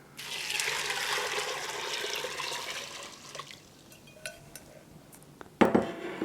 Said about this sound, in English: Then I will add 8 cups of water.